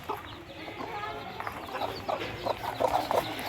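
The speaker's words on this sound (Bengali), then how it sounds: "এই যে তাদের সাদা মোরগটা" Chickens and a white rooster cluck in a series of short, soft bursts, growing busier toward the end, amid faint background noise and distant voices.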